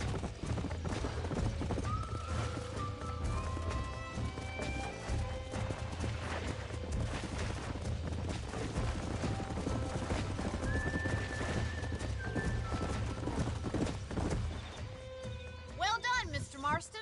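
Horse hooves clop and gallop in the Western video game Red Dead Redemption, with rhythmic hoofbeats running throughout under frequent dialogue, a few neighs, and some crashes near the end.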